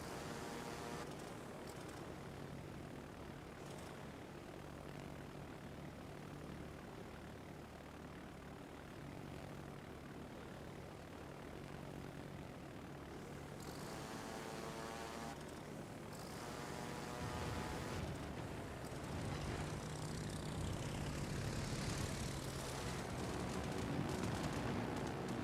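Propeller aircraft droning in the naval combat game World of Warships Legends, a steady engine hum that swells louder toward the end, with no talk over it.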